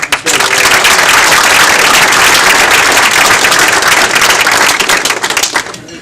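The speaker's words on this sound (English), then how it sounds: "I'd like to have a little round of applause for Steve." An audience at a county Democrats' clambake bursts into loud, sustained applause, dense clapping that holds steady for several seconds before tapering off at the end.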